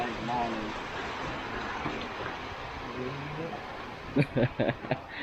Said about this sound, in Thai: ฝนตกแล้วนะครับ